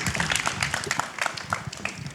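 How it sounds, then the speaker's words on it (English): Brief applause from a summit audience for panelists after an anti-scam discussion, a moderate patter of clapping heard at some distance, fairly quiet and steady across its short span. "Big round of applause to our panelists."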